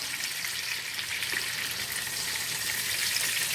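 Chicken breast sizzling in a skillet, a steady crackling hiss of frying with no break, moderately close and alone.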